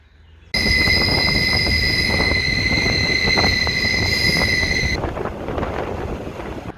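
Steady rumbling interior noise of a moving train, with a constant high-pitched whine on top that cuts out partway while the rumble continues.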